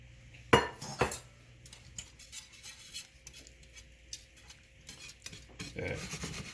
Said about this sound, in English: you want to mix the ingredients around before the egg starts to set.